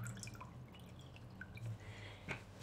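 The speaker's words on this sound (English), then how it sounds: "I'm going to squeeze out all the water I can." Water dripping and trickling from a squeezed-out paint sponge into a water bucket, soft scattered drops and small splashes, quiet and close, with a brief louder splash near the end.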